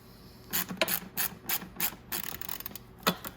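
A ratchet fitted with an 8mm socket loosening fasteners on the air box of a Venom X22 125cc motorcycle, heard as a close series of rapid clicking bursts in an uneven rhythm, without voices.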